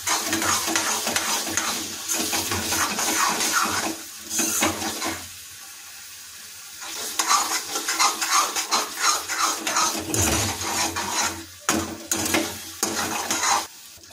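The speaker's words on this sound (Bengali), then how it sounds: "এটাকে আমরা হাতে দিয়ে আরও মিনিট 3 লো ফ্লেমে এভাবে কষিয়ে নেব" Spice paste with Kashmiri chilli powder being stirred and cooked on low flame in a pan for shol fish kaliya, giving bursts of wet scraping and sizzle separated by a couple of quiet pauses.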